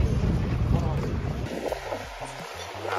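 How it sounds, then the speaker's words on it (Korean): Wind buffets the microphone on a rainy Munich street near the central station, a loud rushing roar for the first moments that then eases as a voice begins speaking. "지금 비가 좀 내리고 있고 바람이 좀 많이 붑니다."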